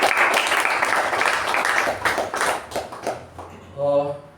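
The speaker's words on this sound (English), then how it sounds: "A big round of applause for Toastmasters." Applause at a Toastmasters meeting rises as a dense, close patter of clapping hands that fades after a few seconds, followed by a voice speaking.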